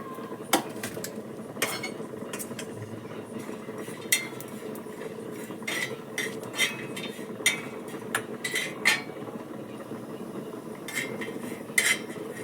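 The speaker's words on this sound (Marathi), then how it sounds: "खोबरं पण भाजून घेऊया आपण" Coconut dry roasting in a pan, heard as scattered metallic clinks and scrapes of a utensil against the pan over a faint, continuous background hiss.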